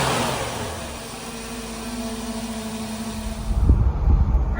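A Ford Thunderbird, 49 years old, with an upgraded big block engine, first idling with a steady low rumble and then revving hard under throttle, the roar swelling loud and close near the end.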